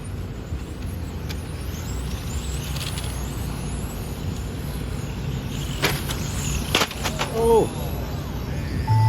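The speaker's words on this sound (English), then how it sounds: "Your top car's going to go by for one more lap" Radio-controlled 17.5 touring cars race around a track in a final, their electric motors whining past in quick streaks while a race announcer talks over the steady background.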